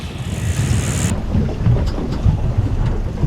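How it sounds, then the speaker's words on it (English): Strong wind buffets a fishing boat offshore near Key West during kite fishing for sailfish, a steady loud roar of gusts and rumbling water noise with no talking. "The wind is just ripping."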